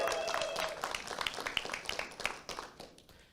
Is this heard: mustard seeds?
no